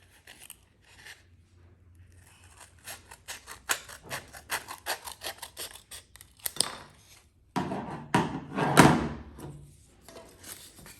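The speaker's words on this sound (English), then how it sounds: "we are just going to cut off the border" Scissors snipping away the border of a paper template, a rapid run of crisp close cuts building in pace, with louder rustling and handling of the paper toward the end.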